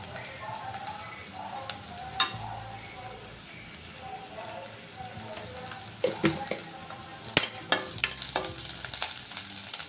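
Curry leaves and turmeric sizzle and fry in hot oil in a pan while rajma curry is cooked, with a steady crackle, several sharp spattering pops, and a spoon stirring through it.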